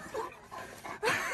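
A Cane Corso whimpers in a cage in a couple of short, high, strained whines and yelps, quiet and fairly close, with no speech.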